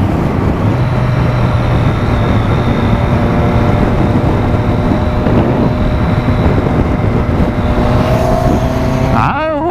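A Honda Hornet motorcycle engine drones steadily and loudly throughout, with wind buffeting the microphone and a rising rev near the end.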